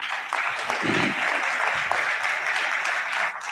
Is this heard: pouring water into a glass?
no